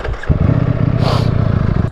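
A Ducati Streetfighter V4S motorcycle idles and blips its engine, a loud, close, throbbing exhaust rumble with a quick rise in revs partway through.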